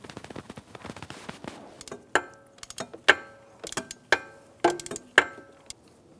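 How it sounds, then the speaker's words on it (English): A 14mm socket ratchet loosens a bolt on a bracket of a 1996-2002 Toyota 4Runner during valve cover gasket work, giving a run of quick clicking ticks and several sharper metallic snaps, fairly close and moderately quiet. "Loosen up this bolt."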